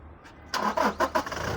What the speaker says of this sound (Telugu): एक बार गाड़ी स्टार्ट करो.